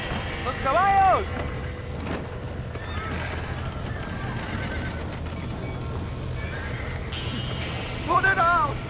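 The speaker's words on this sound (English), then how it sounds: "Somebody get that horse out!" Horses whinny in panic during a barn fire in the video game Red Dead Redemption, two shrill neighs near the start and end over a constant roar of fire and commotion, with voices shouting throughout.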